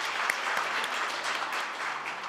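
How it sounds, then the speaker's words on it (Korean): Steady applause from a seminar audience at a national future-strategy event at the Korean National Assembly, a dense wash of many hands clapping continuously and evenly throughout. "큰 박수 부탁드립니다."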